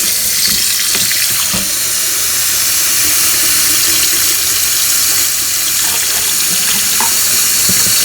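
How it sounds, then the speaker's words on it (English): Cold water gushes steadily from a sink faucet over eggs being rinsed, a loud, constant hiss with a few faint clinks underneath. "under the sink we're going to wash it in cold water"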